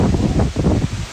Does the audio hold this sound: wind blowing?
yes